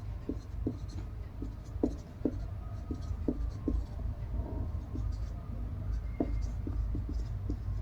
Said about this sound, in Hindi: अब देखिए 8 के पहाड़े को हम लिखेंगे।